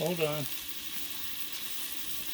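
Asian-style vegetable stir fry sizzling on a Blackstone griddle, a steady close hiss of frying that continues throughout, with a brief tonal sound at the very start.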